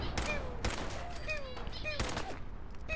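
Gunfire in the video game Fallout 4, with several sharp shots spaced across a few seconds over busy game sound, and tonal effects between the shots.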